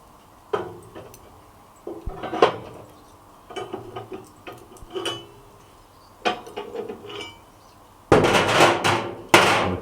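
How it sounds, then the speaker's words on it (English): Metal grill grates being set into a Hellrazr Yama pellet grill, a series of scattered clanks and knocks at close range, ending in a louder burst of rattling metal contact. "So the first job we need to do is season these grill grates. We're just going to place them in the Yama."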